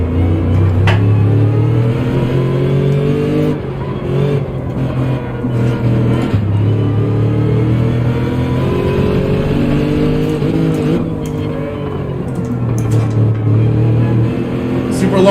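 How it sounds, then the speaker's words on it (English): Loud, rough V8 engine roar of a Gran Turismo 7 Gr.3 race car with side exhaust, revving and shifting up and down continuously, with a voice talking over it. "My car is loud. The V8."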